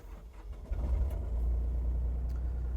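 A mini excavator's diesel engine cranks and catches, building into a steady low rumble that settles into a continuous idle, moderately loud and close.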